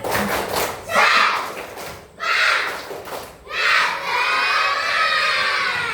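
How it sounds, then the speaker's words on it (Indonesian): Schoolchildren in a classroom perform a clapping chant, a loud crowd of young voices shouting in three rhythmic bursts with claps and thumps between them. "Coba tepuk semangat dulu, tepuk semangat."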